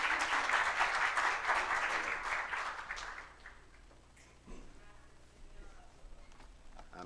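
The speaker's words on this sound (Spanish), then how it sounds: "Un aplauso para él." A church congregation applauds the preacher with a moderate burst of clapping that fades out after about three seconds, leaving quiet room sound with faint speech.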